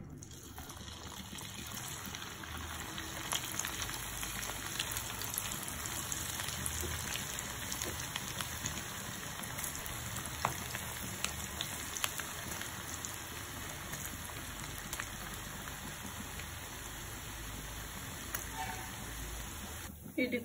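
Vegetable masala Maggi noodle pakoda deep frying in hot oil, giving a dense, steady crackle and hiss that runs evenly throughout, with a few sharper pops.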